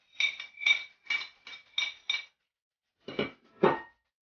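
Smoked salmon tartare is mixed in a bowl, with close, distinct clinks of a utensil against the bowl: six quick taps, a short pause, then three more.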